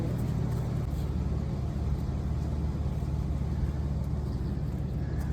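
Car engine revving steadily while the car sits stuck in ruts, a continuous low rumbling drone that holds at an even level throughout, close by with no voices.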